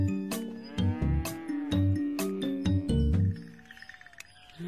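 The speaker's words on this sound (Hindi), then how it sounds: "भैंस को कभी देखा नहीं क्या?" A buffalo moos in deep, resonant calls. The calls come close and loud and overlap in a rhythmic run, and a faint jingling sound appears near the end.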